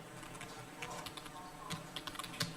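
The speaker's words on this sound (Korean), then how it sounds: "엔터를 딱 쳐주자" Soft clicks from a computer keyboard while someone enters a chart title in a spreadsheet, a few quiet key presses ending in a light Enter tap.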